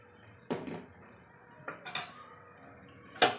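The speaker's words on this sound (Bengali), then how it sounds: "এবার আমি এটা নামিয়ে প্রেসার কুকার বসিয়ে দেব।" A pressure cooker is set down on a kitchen stove in several separate metallic knocks and clanks, close and moderately loud, with quiet pauses between them.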